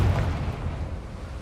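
Confringo spell explosion in a Harry Potter video game: a deep, rumbling boom that fills the whole moment and rolls on with a low roar before tapering slightly.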